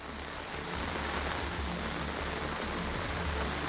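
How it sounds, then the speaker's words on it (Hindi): Heavy rain pouring in Mumbai, a loud, dense and unbroken hiss of drops striking surfaces, with a low rumble beneath and no voices. "इस वक्त मुंबई में पिछले कई घंटे से लगातार तेज बारिश भी हो रही है।"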